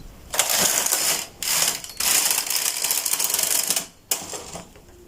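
A hand-operated knitting machine carriage sweeps across the needle bed on its first row, reading a punch card. It gives loud, dense mechanical clattering in several passes separated by brief pauses, close and with no talking.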